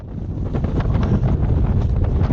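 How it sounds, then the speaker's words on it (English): Strong gusting wind roars across an exposed mountain snow gully on Scourmore, buffeting loudly and continuously with low rumbling and no voices. "As I gained height ascending Scourmore, the wind really picked up, as you can probably hear."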